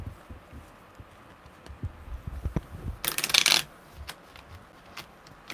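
Tarot deck being shuffled, one brief, dense riffle of cards near the middle, surrounded by soft taps and handling noises from the cards close to the listener.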